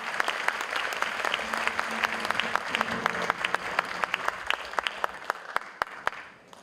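An audience at a stage show applauds steadily, a dense wash of many hands clapping that holds for several seconds, then thins to a few scattered claps and fades.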